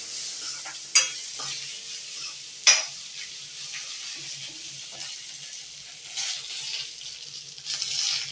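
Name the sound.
coarsely crushed garlic frying in a pan with mustard seeds and cumin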